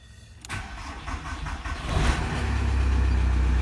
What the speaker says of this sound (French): Elle a démarré du premier coup.